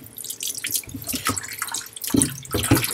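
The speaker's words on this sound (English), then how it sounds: "So let's get some water on it." Water poured and dripping onto a Naniwa Gouken Arata 10000 whetstone, a close splashing and trickling with several sharper drips, moderately loud with no talking.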